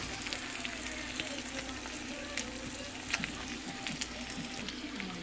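Onions fry with corned beef in a pan, a continuous moderate sizzle with scattered crackles and occasional stirring clatter at close range.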